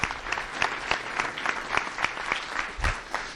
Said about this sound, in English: Let's give a big round of applause to all of our sponsors.